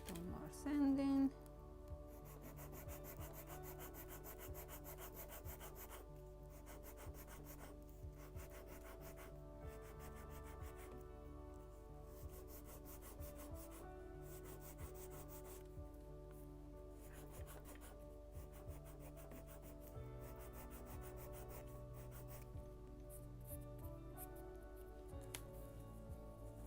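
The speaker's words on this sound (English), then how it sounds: "A little more sanding" Soft, steady rubbing and scraping of hand-sanding wooden hull planking on a model ship continues throughout, quiet and close, with occasional light taps.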